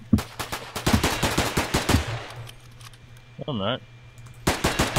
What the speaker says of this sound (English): I'm using the assault rifle.